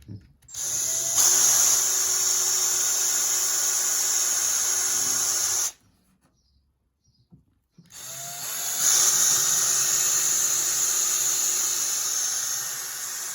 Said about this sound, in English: we're going to drill those holes and then we're going to try and pot rivet them.